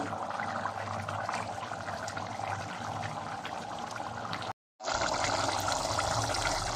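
Tomato chutney simmers uncovered in a pan to cook off its water, giving a steady, close bubbling and sizzling hiss that cuts out briefly before resuming.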